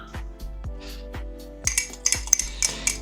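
Metal spoon scraping and clinking against a pot while boiled egg whites are stirred into a pork belly and pickle sauce, a series of sharp taps at first, then denser, brighter clatter near the end.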